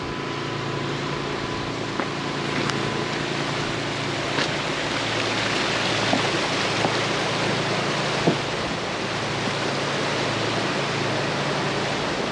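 Kali river water rushing at its source near Kalapani on the Nepal–India border, a steady, dense roar of flowing water that holds constant throughout with no voices.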